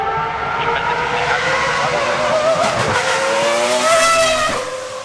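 A loud Sauber C14 race car engine screams past at the Goodwood Festival of Speed with rising and falling revs and sharp tire squeal, the roar dropping off at the end.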